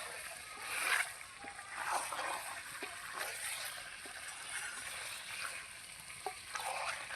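Meat frying in oil in a pan gives a soft, steady sizzle, quiet and close, with a few brief spatters and stirring scrapes rising above the hiss.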